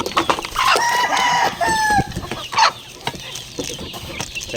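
Pet chicks chirp and cheep in high, bright peeps close by, with busier clucking and fowl calls around them.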